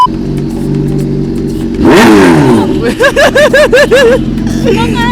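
Loud, close revving from a Kawasaki Ninja 250 motorcycle running a Toyota Soluna car engine: a steady idle, one big rising roar, then a series of rapid throttle blips before it settles back to idle, with people chattering around it.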